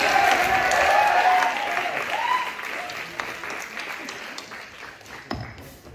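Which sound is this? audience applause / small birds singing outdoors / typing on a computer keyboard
audience applause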